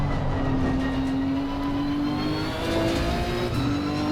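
A Nissan GTR race car in the Assetto Corsa racing game drones at high revs, its engine note rising and shifting pitch steadily through a lap, loud and continuous with no talking.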